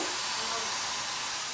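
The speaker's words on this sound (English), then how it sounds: "I'm gonna just hit it with a really quick diffuser just to give ourselves a little bit of life back" A hair diffuser blows airflow over naturally curly hair in a brief refresh, a steady broad hiss that stays constant and fairly loud throughout.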